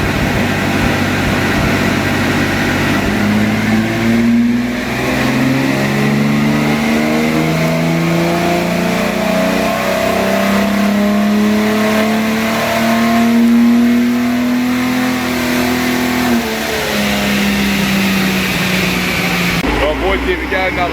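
A 265 Hemi engine runs loud on a dyno for a sustained pull, its roar holding steady, then climbing gradually in pitch as revs build, before cutting off abruptly at the end.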